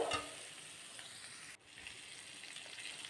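Water poured into a pan of fried eggs and boiled potatoes sets off a loud hissing sizzle that stays steady, with a short break partway through as the pouring and bubbling continue.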